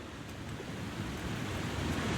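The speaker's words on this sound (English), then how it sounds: "Hello, waterfall. Aren't you nice and loud?" A loud waterfall in the snowy survival game The Long Dark gives a steady, even rush of churning water. The roar is fairly distant and unbroken, with no voices over it.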